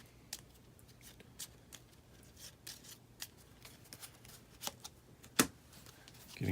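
Cards from the Lord of the Rings: Journeys in Middle-earth board game are handled and shuffled in quick, irregular flicks and snaps, close but quiet, with a sharper snap near the end.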